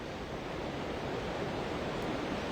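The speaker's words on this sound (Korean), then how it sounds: "팔당댐에서 뿌더져 나오는 물소리가 여기까지 크게 들리고 있습니다" Floodwater thunders out of the open Paldang Dam floodgates during heavy summer rain releases, a steady, dense, loud roar of rushing water with no pauses and no voices.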